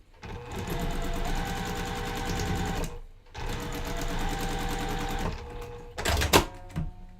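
A sewing machine stitches quilt patches together for a four-patch block in two steady, loud runs separated by a brief pause, followed by a few short clacks and bursts as the fabric is handled.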